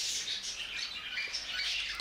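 Budgerigars squawk and chatter during courtship in a steady stream of shrill, scratchy calls close by, ending with a brief sharper squawk.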